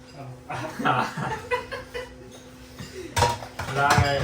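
Dishes being washed by hand in a home in Germany: pots, pans and utensils clatter and clink in irregular bursts at close range, under people talking and chuckling.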